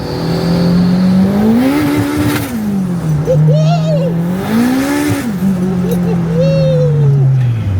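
A loud tuned Honda Integra Type R (DC2) engine running E85, rated 410 kW, revs up and down repeatedly, rising and falling in pitch, heard from inside the car with road noise beneath.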